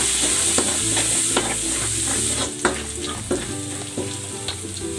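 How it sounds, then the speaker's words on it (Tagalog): Garlic sautés in a hot pan, a steady close sizzle broken by repeated scrapes and clinks of a utensil stirring. "Magigisa na ako ng bawang."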